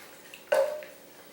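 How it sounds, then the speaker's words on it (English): A short splash of water from a pitcher lands in a cooking pot of sambar, starting abruptly and trailing off into a brief ringing hum before quiet. "and then to this I'm going to be adding a pitcher of water"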